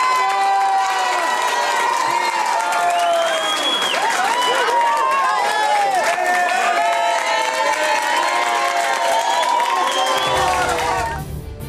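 Students cheer and applaud loudly for a retiring teacher at a school in Brazlândia, a dense crowd of shouting young voices and clapping running continuously before fading at the end.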